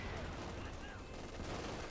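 MG34 machine gun fire in Company of Heroes 2 comes as a faint, dense crackle of rapid shots, blended into a busy, continuous battle din at low volume.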